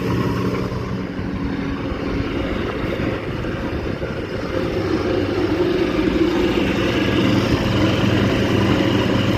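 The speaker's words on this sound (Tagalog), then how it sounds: "Ayos, gumagana ang exhaust fan." A rooftop exhaust fan runs steadily, a continuous loud low hum and whir with a constant motor drone and no breaks, no voices heard throughout.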